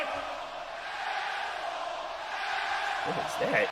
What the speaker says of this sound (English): He knew they were going to cheer too.